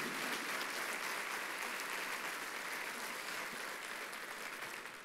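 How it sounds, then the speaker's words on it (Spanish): A church congregation applauding, an even, sustained wash of many hands clapping at low level that tapers slightly at the end, with no talking. "Denle un aplauso bien fuerte a Jesús."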